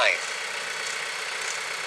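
A new 2021 Branson 5520c tractor with a backhoe runs while backing up, its engine giving a steady, loud mechanical drone with broadband hiss and no breaks, with a voice talking over it.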